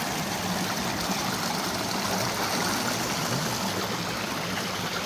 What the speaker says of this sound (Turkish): Bu sular dağdan geldi.